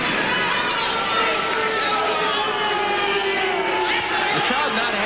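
At a light flyweight boxing match, an unhappy arena crowd keeps up a continuous dense roar of murmuring and jeering for the whole stretch.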